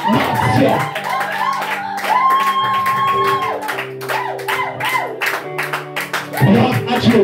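A church congregation welcomes a preacher, evangelist, singer and pianist with clapping and cheering, loud and close, mixed with shouts and sustained tones from music or voices throughout.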